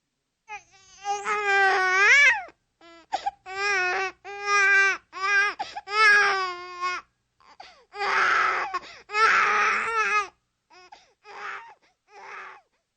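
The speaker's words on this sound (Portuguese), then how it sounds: "aqui temos um bebê chorando, ensaiando seus primeiros sons" A baby cries in a string of wailing bursts with short gaps between them, close and clear, the cries shifting into breathier sobs and whimpers toward the end.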